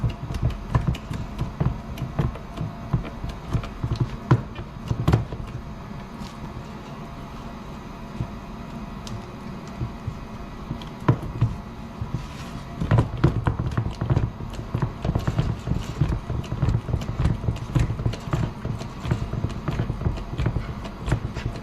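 A P16HP hydraulic hose crimper is worked by hand, giving a dense run of rhythmic clanks and clicks from the pump that continue steadily over a noisy background.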